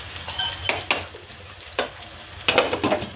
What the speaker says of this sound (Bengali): ওলটাকে আমি চাপা দিয়ে ভাজবো